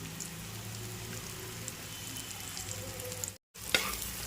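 Chili powder and onion-garlic masala stir-fried in a pan for a spicy Maharashtrian ghevda bean curry, a steady close sizzle with scraping stirs, cut by a brief silent gap near the end.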